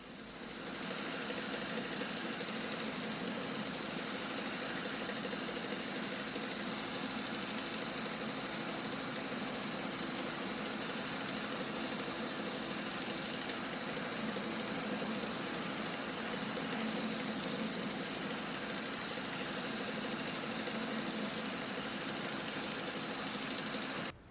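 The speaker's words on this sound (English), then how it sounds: "Then to the combo sander for final tweaking and fitting of the big bevel." A combo sander works a large bevel on a wooden quarter knee for a boat's sheer structure, a steady continuous motor whine and grinding hum running evenly and loud throughout with no voices.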